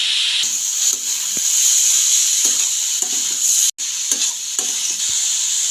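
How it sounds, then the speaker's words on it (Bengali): Mixed vegetables for paratha filling sizzle loudly in a hot pan while being stirred, with a steady frying hiss broken by repeated scraping strokes of a spatula, close up and without speech. "সবজিগুলো নাড়াচাড়া করে ভালো করে ভেজে নিতে হবে"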